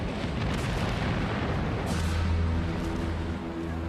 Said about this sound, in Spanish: Se produjo una enorme explosión.